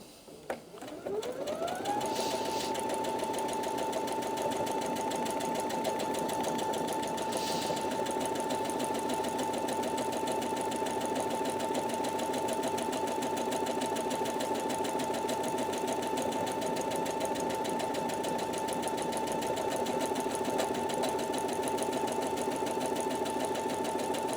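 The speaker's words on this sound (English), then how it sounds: "So it sews the buttonhole in that direction" A Brother Innov-is NV2700 sewing machine stitches a buttonhole, starting up and then running as a steady, close, even motor whir with a rapid needle rhythm for the whole stretch, no voices.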